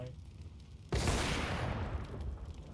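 Sustained gunfire erupts in Counter-Strike 2, a dense, loud burst of shots starting abruptly after a quiet moment and continuing as a steady roar without talk.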